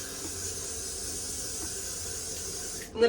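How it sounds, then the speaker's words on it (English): A can of Got2b glue spray hisses in one steady, fairly quiet burst onto a wig, cutting off abruptly at the end. "next I'm gonna take some of my Got To Be glue spray"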